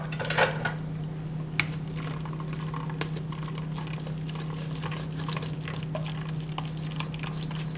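Metal clinks and light clatter of a kitchen strainer as food is strained, a few sharp taps over a steady low hum, close and moderately quiet.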